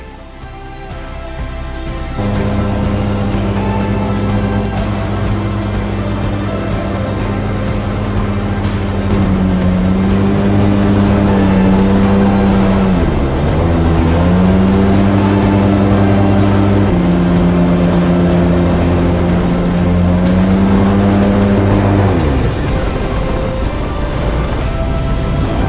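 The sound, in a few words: loud fan boat (airboat) ride in the Everglades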